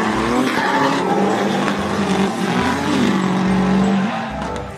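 A yellow race car skidding with squealing tires, loud sustained tire squeals and engine noise close up, the pitch sliding and wavering over several seconds before easing off.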